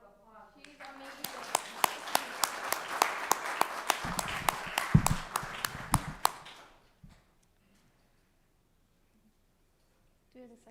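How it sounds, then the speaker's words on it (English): A small audience at a school board meeting claps for a presenter, the sharp individual claps steady for about five seconds before stopping abruptly, followed by near silence. "She needs a round of applause."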